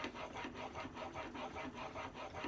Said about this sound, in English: Just finishing up the blade on the 6000 grit.